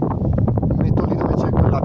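Gusty wind buffets the microphone in a low, continuous roar on the summit of Monte Pelpi, Italy, loud and close, with no other clear sounds.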